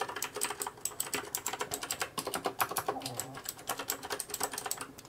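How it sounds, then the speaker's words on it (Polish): Tesoro Lobera Spectrum mechanical keyboard with Blue switches, typed on rapidly at close range, giving a dense, steady stream of sharp clicks with no talk. "No i mamy tutaj przełączniki typu Blue,"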